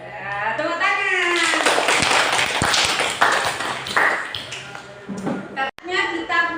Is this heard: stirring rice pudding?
no